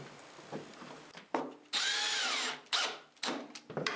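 A power drill drives 1 1/4 inch drywall screws through pre-drilled holes into a plywood dust collection box, sounding as several short whirring bursts with one longer sustained run, close and clear.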